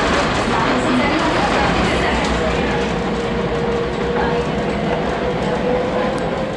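A train pulls into a metro station in Milan with a loud, continuous rumble and broadband rail roar that holds steady throughout.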